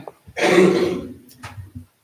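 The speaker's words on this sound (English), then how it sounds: "I was coughing" One close, harsh cough or throat clear at a school board meeting, followed by a couple of softer, shorter coughs.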